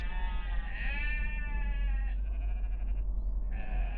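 Sheep bleating in a field around a parked Porsche GT3, several wavering bleats at moderate distance over a steady low background rumble, with no talk.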